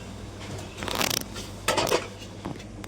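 A small cooking pot being handled and set down on a stove to heat water, two brief metallic clatters over a low background hum.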